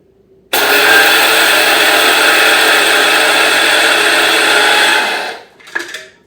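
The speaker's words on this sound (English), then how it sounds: "So I just dump my flaxseed into here and pop it back in the grinder and whiz it up." Electric grinder with a removable chamber whizzing flaxseed, a loud steady high-pitched motor whine for about five seconds that stops abruptly, followed by a few handling clicks.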